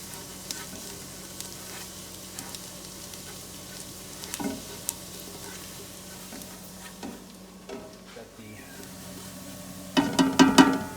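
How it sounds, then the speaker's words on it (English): Three garlic cloves sautéing in a pan for a mushroom soup, a soft continuous sizzle with scattered ticks and clinks and a louder burst of stirring at the end. "I think I put 3 cloves of garlic in there. And we're gonna let that saute for a couple minutes."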